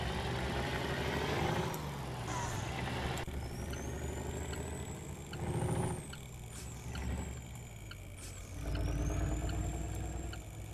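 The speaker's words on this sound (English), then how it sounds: "You guys hear the low end of this engine again." A Kenworth W900L dump truck with an Eager Beaver trailer in American Truck Simulator idles and rumbles with a deep, steady low-end drone, with a few whining and hissing shifts rising over the engine throughout.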